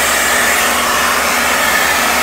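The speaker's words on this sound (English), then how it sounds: "You're going to push the trigger down all the way, and that will release the vacuum" A VacuHand Pro vacuum bag lifter releases its suction, giving a loud, steady, broadband rushing hiss of air that holds evenly throughout with no pauses.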